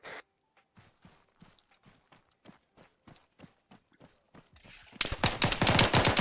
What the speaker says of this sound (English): Oh, they just shot Nafs.